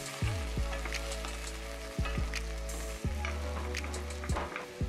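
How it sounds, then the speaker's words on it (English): Potatoes and onions fry in a tablespoon of hot oil over high heat as they are stirred for a Japanese beef and potato stew; a steady, close sizzle runs throughout beneath a sustained tonal musical background. "Once hot, add the potatoes and onions and stir till everything is coated"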